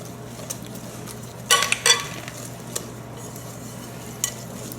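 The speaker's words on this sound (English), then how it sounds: "keep on whisking so that you mix the whole egg into the chocolate mixture" Whisking whole egg into a chocolate mixture for mousse, with a brief burst of whisk and bowl clatter midway among a few scattered clinks over a steady low hum.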